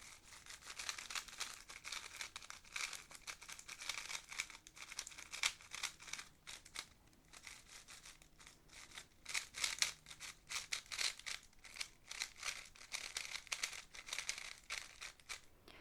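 A new frosted-plastic YS3M speed cube is turned quickly by hand, producing soft, sandy clicking and rustling in fast irregular bursts, quiet and close with no voice.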